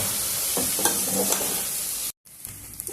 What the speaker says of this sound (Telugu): నిదానంగా కలుపుకోండి లేదంటే బియ్యం బాస్మతి బియ్యం కదా విరిగిపోతాయి ఎక్కువ వేయించద్దండి కొద్దిసేపు వేయించుకోండి